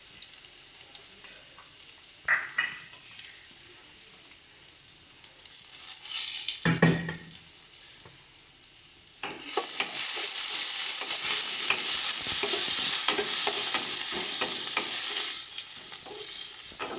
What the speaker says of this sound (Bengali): এবার আমরা এর মধ্যে রসুন আর তেজপাতা ফোড়ন দিয়ে দেবো